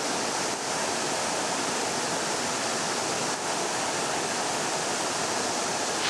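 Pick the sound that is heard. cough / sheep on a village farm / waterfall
waterfall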